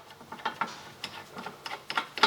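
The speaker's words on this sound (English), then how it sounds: "So we'll start the nut up now." Ratchet clicking in short bursts while a new lower ball joint nut is tightened on a 2009-2017 VW Scirocco, close up and moderately loud, with no talking.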